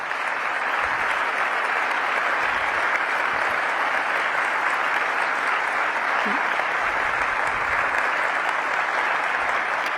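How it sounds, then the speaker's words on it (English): Sustained applause from an audience at a Washington DC Economic Partnership annual meeting, a dense, steady wash of many hands clapping at even loudness throughout, with faint voices beneath. "Let's give him another round of applause."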